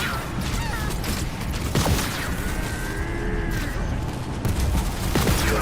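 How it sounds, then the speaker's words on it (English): Gunfire from ground troops in a Halo Wars 2 cutscene, heard as dense overlapping bursts and impacts within a loud, busy battle mix with whooshes and mechanical noise. "I'm under fire from ground troops!"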